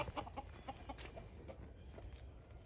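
A Kelso gamefowl rooster clucks in short, repeated bursts nearby, soft clucks scattered over a quiet outdoor background.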